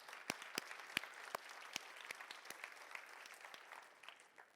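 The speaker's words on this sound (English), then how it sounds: "can we give a round of applause to the fantastic organizers of this event?" Audience at a virtual reality development conference session claps for the event organizers, with steady applause and sharp individual claps standing out, fairly faint and fading toward the end.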